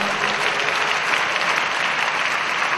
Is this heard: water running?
no